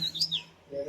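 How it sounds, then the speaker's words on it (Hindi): Morning birds chirping in a few quick, high tweets over a soft background hum, brief and moderately faint. "ये हुआ सवेरा चिड़िया बोली"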